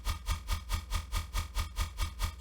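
Dry riddim bass synth with no post-processing, a repeating pulsing wobble of about eight evenly spaced throbs with heavy low end and buzzy upper harmonics, fairly quiet and alone.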